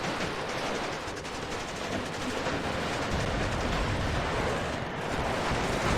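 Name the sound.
Soviet machine gun fire in video game WARNO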